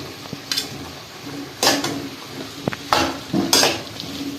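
Potatoes with turmeric, red chili and salt are stirred and sautéed in a pan for homemade vada pav filling, quick scraping spoon strokes with soft sizzling underneath, close by.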